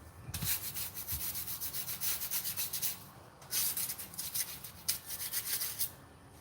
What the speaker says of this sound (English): I'll take my scraper, scrape it up, blow it off.